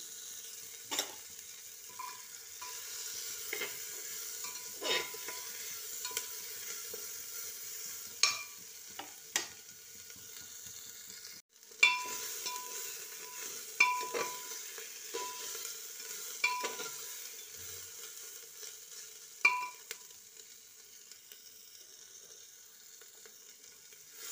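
Onions and ginger-garlic paste frying in butter in a pan for a chicken curry, a soft continuous sizzle broken by periodic spatula stirs and scrapes against the pan, close and fairly quiet, no talking.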